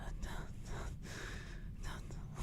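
A man imitates heavy breathing with his voice, a run of breathy gasps and whispery exhales in two or three surges, close and fairly quiet over a low rumble.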